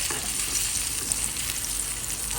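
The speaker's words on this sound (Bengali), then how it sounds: "এই যে বেগুন ভাজাটা বসাই দিলাম বেগুন ভাজিটা হয়ে যাক" Eggplant slices (begun bhaja) fry in a pan with a steady, dense, close sizzle that holds evenly throughout, with no talking.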